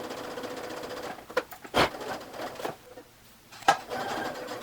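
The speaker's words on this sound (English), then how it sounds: "take this over to the sewing machine, and then I'm just going to stitch that right on" A sewing machine stitches piping onto fabric in short bursts with pauses between, a whirring mechanical buzz heard up close with no talking.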